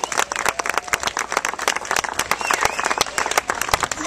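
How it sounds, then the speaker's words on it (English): Crisp, uneven clapping from a crowd at a Relay for Life event, individual hand claps distinct and fairly close, mixed with a few faint cheers and no clear talk. "I think we would give a big round of applause to all these volunteers"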